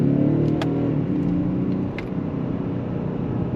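A 349-horsepower Audi S6 TDI with sport exhaust pulls hard under acceleration, a steady deep engine rumble and drone close by, with no talking over it.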